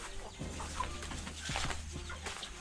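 Free-range village chickens in a homemade backyard coop give soft, scattered clucks at close range, over a steady low hum and faint background sounds.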